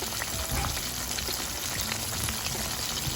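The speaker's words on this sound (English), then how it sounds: "Fry for about 2 minutes" Battered butterfly shrimp deep frying in a large deep-dish cast iron pan, giving a steady, dense crackling sizzle that holds even throughout, with small pops scattered across it and no voices.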